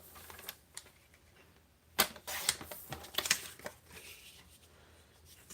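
Scissors cut paper for a craft project, giving several faint, sharp snips spread irregularly with quiet gaps between them.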